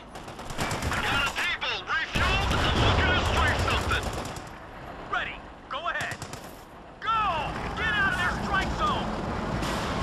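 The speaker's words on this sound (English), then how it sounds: "Infantry, nail him with the MG." Machine gun bursts crackle through a Company of Heroes 2 battle, loud rapid rattles in several clusters with short pauses, mixed with battlefield noise and game voices.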